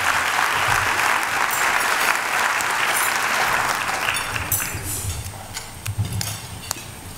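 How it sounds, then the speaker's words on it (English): Sustained applause from a large luncheon audience honoring a county official, dense and steady at first, then thinning and tapering toward the end with scattered individual claps. "give her a great round of applause for all that she has done"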